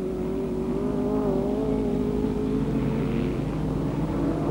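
A pack of 1963 saloon racing cars under 850cc, including Fiats and a Saab, pulls away from the start of a three-hour race. The result is a dense, steady drone of small buzzing engines, loud and continuous throughout.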